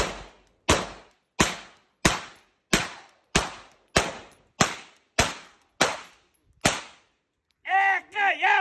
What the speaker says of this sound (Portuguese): Local seguro para fazer 17 tirinhos de 9 milímetros